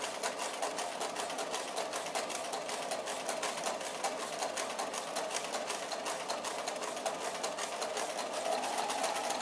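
A sewing machine stitches down the side of a centred zip, a close, steady, rapid whirring chatter that runs continuously without pause.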